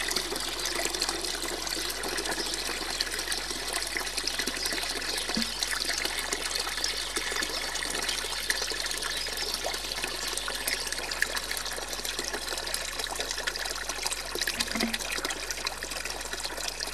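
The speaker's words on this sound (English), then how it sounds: "the valve is opened and the water flows from the walled area into the open sea through the pipe driving the turbine and electrical generator" Water runs from a walled tidal basin through a pipe into the open sea past a turbine, a steady faint hiss of flowing and trickling water with no break over the whole stretch.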